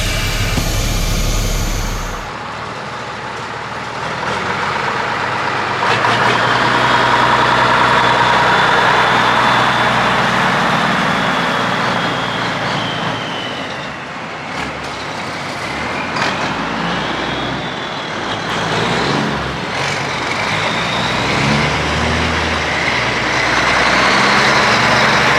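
An old Mack truck engine rumbles loud and close as the truck drives, its heavy diesel roar rising and falling through gear shifts over about twenty-five seconds.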